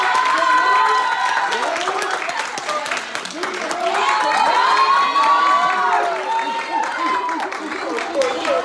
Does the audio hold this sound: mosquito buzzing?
no